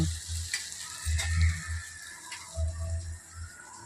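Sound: curry with chili powder frying and simmering in a pan

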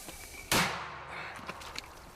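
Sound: artillery shot

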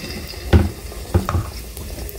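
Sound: battered jackfruit and banana frying in oil

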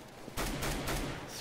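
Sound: gunfire in video game CS:GO, shooting through walls

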